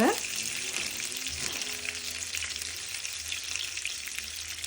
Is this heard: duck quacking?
no